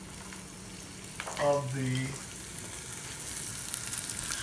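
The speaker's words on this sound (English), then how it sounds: "And you're just gonna let that saute up together." Almonds and cranberries sauté in a pan with green beans, giving a soft, steady sizzle beneath a brief stretch of speech.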